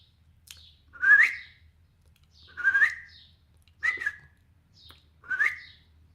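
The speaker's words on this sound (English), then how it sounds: "I have two bird feeders outside. Um, and you hear them," Wild birds around backyard feeders give four clear, whistled chirping calls at a slow, even spacing, fairly close and bright against a faint low hum.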